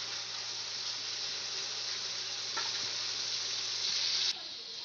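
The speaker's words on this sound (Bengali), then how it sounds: "আলুটাকে আমি ভেজে নেব।" Potatoes fry in a pan with turmeric powder, giving a steady, even sizzle that holds at one level for several seconds before cutting off near the end.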